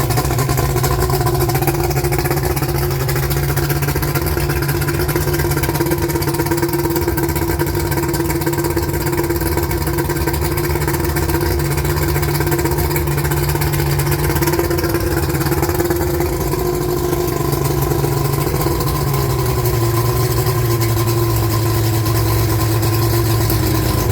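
A 1992 Mercury 200hp XRi two-stroke outboard with tiller and jet pump idles loudly and close, a steady droning rumble with a slight shift in pitch partway through.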